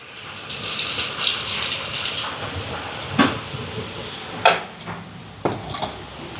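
Tamarind water is poured into a simmering vegetable curry, giving a continuous liquid splash and gush with a few sharper spoon or pot knocks; no talking.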